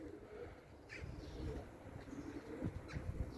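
A pigeon with an injured, bruised wing coos softly a few times, low and muffled, against faint background noise.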